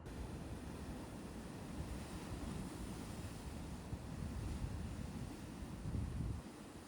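Continuous rushing surf of the East Sea on a winter coastal trail near Pohang, South Korea, with a low rumble, swelling slightly toward the end, mixed with some wind buffeting; no voices.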